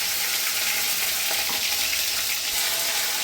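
Tomato and spices fried in oil in a wok (kadai) with cumin and bay leaf: a dense, loud, continuous sizzle and hiss with a few stirring scrapes, heard close, with no talking.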